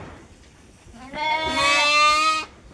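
A lamb bleats once from its shed. After a quiet moment, a single drawn-out, wavering cry rings out close and clear, then cuts off.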